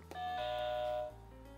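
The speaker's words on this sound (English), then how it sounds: "Who's ringing the doorbell?" An indoor doorbell sounds once, a clear two-part electronic chime lasting about a second, fairly quiet, with no voices.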